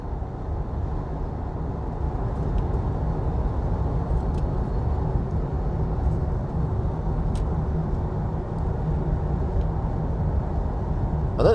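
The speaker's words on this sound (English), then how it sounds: "in the back I can hear some wind noise, just like in the EQE SUV" Steady wind noise and road rumble fill the cabin of a VW ID Buzz towing a trailer, an even, continuous roar that holds without breaks.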